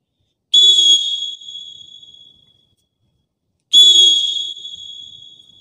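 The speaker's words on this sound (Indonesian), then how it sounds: "Tangannya seperti ini sambil meniup peluit" Two sharp, shrill volleyball referee whistle blasts, each held for about a second, separated by a pause of a few seconds in otherwise quiet surroundings.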